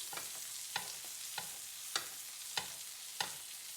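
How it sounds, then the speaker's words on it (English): Salmon basting in sizzling browned butter in a pan, with a soft continuous sizzle and a spoon tapping the pan about five times at a steady, roughly even rhythm, close and fairly quiet. "Just baste that salmon and let all those flavors get into that skin of that salmon"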